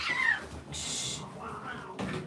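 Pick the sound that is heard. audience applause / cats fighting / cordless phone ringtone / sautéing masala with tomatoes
cats fighting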